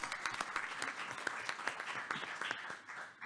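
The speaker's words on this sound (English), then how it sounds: "So let's first clap for that award." Applause from a room full of people at a school board meeting, steady scattered clapping that holds for a few seconds before tapering off.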